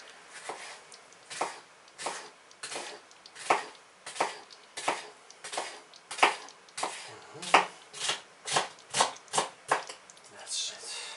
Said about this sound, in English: The way I cut my onions is a very special way.